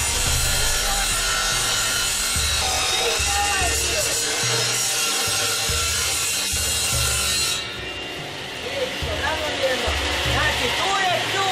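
A wood saw runs loudly and cuts through firewood outdoors, producing a continuous harsh buzzing roar with a rhythmic low pulsing that eases slightly near the end, while people talk in the background.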